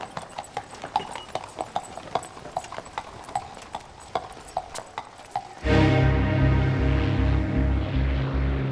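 Horses' hooves clatter in a steady, quick rhythm of sharp clip-clop strikes for several seconds, then a loud, low droning engine abruptly takes over.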